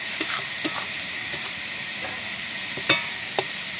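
Spices stirred and fried in a pan for an onion-stalk curry with fish head, a steady sizzle with a few soft scraping stirs and two sharper clinks near the end, close, no talk.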